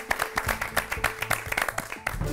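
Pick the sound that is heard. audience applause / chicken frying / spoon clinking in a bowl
audience applause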